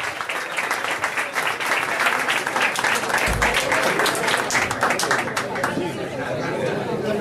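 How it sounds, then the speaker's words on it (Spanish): Audience applause at a live evening show, dense clapping mixed with crowd chatter and voices, steady and fairly loud throughout with a brief low thump near the middle. "Fuerte el aplauso y así arranca la noche por Valentina Frías."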